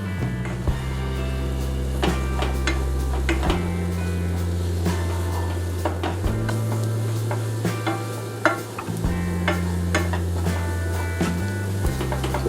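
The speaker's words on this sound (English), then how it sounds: "Butter's pretty much there. Now we add the flour." Butter and flour cooking together in a pan as a roux for old country-style gravy, with a steady low sizzle and a hum beneath repeated scraping stirs, close and fairly loud throughout.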